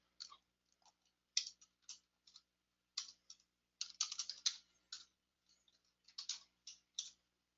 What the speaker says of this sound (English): I only have to type a few of the items.